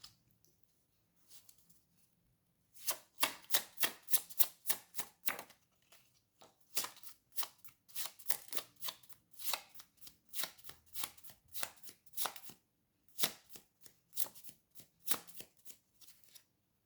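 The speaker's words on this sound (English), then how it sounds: "They're really hard to shuffle, these cards, because they're smaller." Small playing cards being shuffled in repeated quick riffles: bursts of sharp, crisp flutters close by, coming in clusters with short pauses between them, and no talking.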